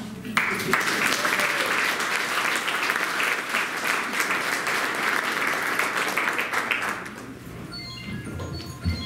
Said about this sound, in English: One more round of applause for our future.